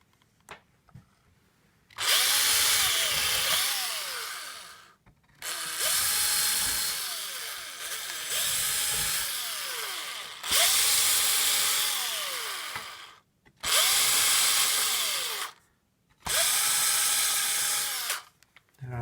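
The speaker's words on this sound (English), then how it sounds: "So we're going to pre-drill." A power drill pre-drills screw holes in the wooden door of a nightstand, five long whining runs of two to three seconds each, with the motor pitch rising and falling as it bites into the wood and short pauses between holes.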